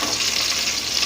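Curry leaves sizzle and spit in hot rice bran oil in a pan, a steady close hiss with dense crackle throughout and no voices.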